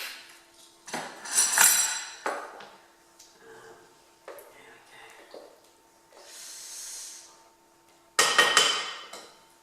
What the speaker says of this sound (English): I'll give it a stir around